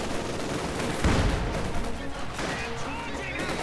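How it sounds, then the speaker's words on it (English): Field guns fire as artillery in a Company of Heroes 2 1v1 match, with a heavy boom about a second in amid continuous battle gunfire and other dense game noise. "there you go, firing the field guns as artillery"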